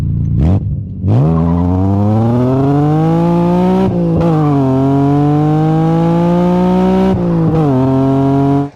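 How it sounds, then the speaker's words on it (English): A tuned BMW E36 M3 Evo with a carbon intake, full custom exhaust and the airflow meter removed accelerates hard and loud, its engine note climbing steadily through three gears with brief drops at each shift. "this car has got the carbon intake, a full custom exhaust, and it's actually quite loud, isn't it?"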